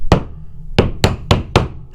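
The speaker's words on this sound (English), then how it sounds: "I usually just tap them in with a hammer" A hammer taps small nails into a baseboard: one knock, a pause, then four quick, evenly spaced close strikes with a hard woody thud.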